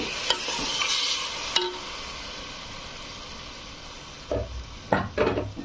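Overheated oil spattering in a pot while chicken biryani fries: a soft sizzle underneath, broken by sudden loud pops and bursts of spitting that cluster toward the end, no voices.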